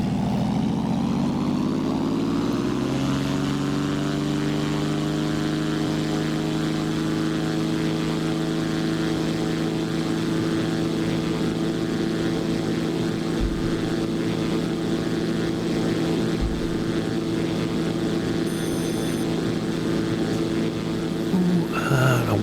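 A propeller aircraft engine spools up over the first few seconds, then holds a loud, steady droning buzz with a strong harmonic whine close by for the rest of the flight.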